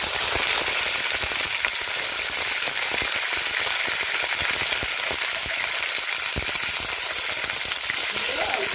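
Curry leaves hit hot oil with a loud, dense, crackling sizzle that holds steady throughout, thick with rapid spitting pops like heavy rain.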